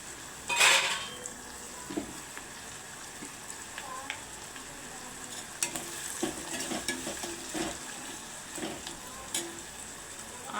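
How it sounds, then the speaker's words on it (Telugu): Onions with curry leaves fry in a pan as salt goes in, making a quiet continuous sizzle broken by a few utensil clinks and scrapes, with no voices. "ఆనియన్స్ తొందరగా వేగితే సాల్ట్ వేసుకోవడం వల్ల కరివేపాకు రెబ్బలు వేసుకోవాలి"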